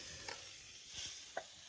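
Stone crabs being stir-fried in a pan outdoors: quiet scraping stirs and faint sizzling, with a few soft clinks of the utensil against the pan.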